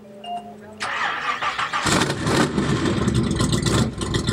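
A custom car's engine cranks and fires after a quiet moment, then catches into a loud, rough, steady idle that rumbles on without any talk.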